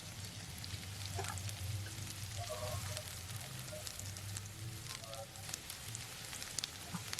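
Garlic fries in a nonstick pan with sautéed onion, a soft, continuous sizzle with scattered light pops and crackles, fairly quiet and without talk.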